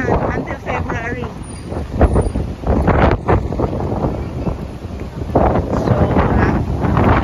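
Strong amihan monsoon wind buffets an outdoor microphone in a steady, loud rumbling roar, with a person talking over it throughout.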